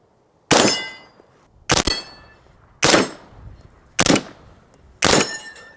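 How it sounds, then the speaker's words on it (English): Five suppressed rifle shots from a Huxworks HX762 Ti suppressor, each followed by a loud ringing clang from a large steel swinger target, spaced about a second apart, with no talk. "Shoot it on this bigger swinger"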